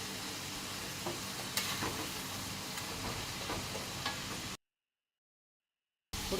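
Onions sizzling steadily in oil in a pan while a potato and jackfruit curry is cooked, a continuous close hiss with a few stirring clicks, then a brief silence before the frying resumes.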